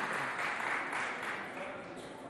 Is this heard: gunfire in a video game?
no